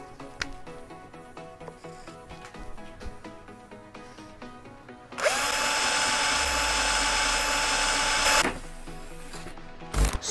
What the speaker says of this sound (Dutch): Zo, het gat is geboord.